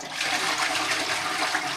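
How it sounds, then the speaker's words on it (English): A toilet in a campsite washroom flushes with a steady rushing, hissing gush of water that holds strongly throughout, close by and with no voices. "I'm happy to report a very good flushing mechanism as well."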